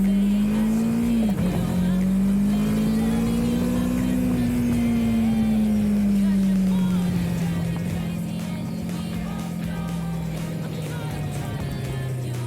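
Kawasaki Versys 650 trail motorcycle engine, a steady close drone that rises and falls gently in pitch while riding, loud and continuous with no talk.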